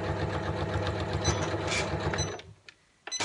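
A sewing machine stitches back and forth over the seam of a small fabric tissue pocket holder, a fast steady close mechanical whirr that stops abruptly near the end before a brief restart.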